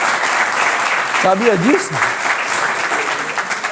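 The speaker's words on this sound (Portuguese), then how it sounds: "Pode aplaudir você, que você ganhou uma corrida de 300 milhões." Audience clapping throughout at a religious teaching program, steady and fairly loud, with a voice speaking over it partway through.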